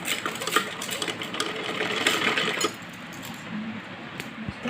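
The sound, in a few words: sewing machine stitching a sleeve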